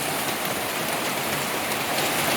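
Heavy rain pouring over a garden with an overflowing, failing gutter, a steady dense roar of water on surfaces, close and constant throughout, with no voices.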